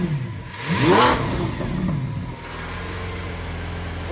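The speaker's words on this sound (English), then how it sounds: "Just smells good when you hear this thing start up. That's the firing power of this V12." A 2017 Lamborghini Aventador S V12 starts with a loud revving blip that swells and falls away, then settles into a steady, throaty idle heard nearby.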